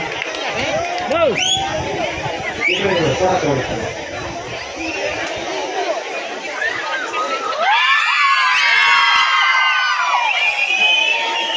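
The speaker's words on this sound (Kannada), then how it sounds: "ವಿದ್ಯಾರ್ಥಿಗಳ ಹರ್ಷೋದ್ಗಾರ ವಿದ್ಯಾರ್ಥಿಗಳ ಪ್ರೀತಿ" Noisy crowd of high school students shouting and chattering at a teacher-honouring ceremony, rising into a louder burst of high-pitched cheering and screams toward the end.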